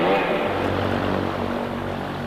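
Propeller aircraft driven by a Wankel rotary engine, a steady loud droning buzz holding at even level throughout with no pauses or talk.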